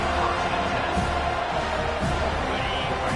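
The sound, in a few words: football stadium crowd roaring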